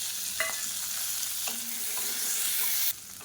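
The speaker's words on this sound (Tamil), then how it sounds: "இப்போ பாருங்கள், வெங்காயம், பச்சை மிளகாய் எல்லாமே நல்லா வதங்கிடுச்சு" Small onions, tomato and green chillies sauté in a pan for a peanut mint chutney, giving a soft, steady sizzle with a few scraping stirs, quiet and close, with no voices.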